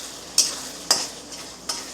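Masala frying in oil in a home kitchen while being stirred, three brief scraping stirs over a steady sizzle, close and fairly loud with no talking.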